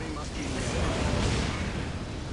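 Heavy plasma cannon fire roars through a Dawn of War Unification battle between World Eaters, Emperor's Children and Imperial Guard forces, a dense continuous rumble of blasts and explosions with no break.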